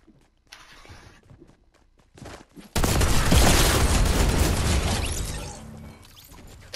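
Rapid submachine gun fire in a multiplayer shooter game, a loud sustained burst lasting a few seconds, preceded by scattered quieter footsteps and movement.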